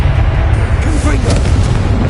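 A Confringo blasting spell goes off in the Hogwarts Legacy video game, giving a loud, dense booming blast with rumbling low end that carries through the whole moment, layered with crackling bursts.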